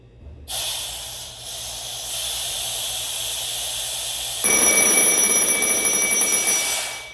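A firefighter's breathing-apparatus air pack has its seal cracked open, releasing a steady, close hiss of escaping air. Partway through, the hiss grows louder and a thin high whistle rings above it.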